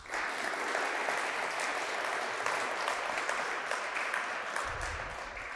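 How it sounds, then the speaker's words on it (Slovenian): An audience applauds the finalists at an innovation festival, a sustained, even wash of many hands clapping at moderate distance. "vsem tem finalistom seveda namenimo en lep aplavz"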